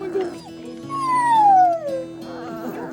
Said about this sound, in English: we got to cuddle 3-week-old puppies